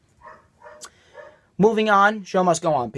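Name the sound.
dog barking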